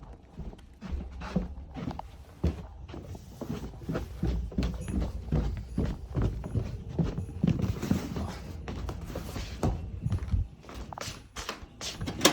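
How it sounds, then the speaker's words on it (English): Repeated thudding steps, like footfalls on a roof overhead, irregular and fairly close, with scattered knocks and rustling throughout. "It sounded like I literally heard footsteps."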